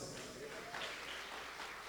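A church congregation applauds, a dense wash of clapping that stays steady and fairly distant across the brief moment, with some voices mixed in.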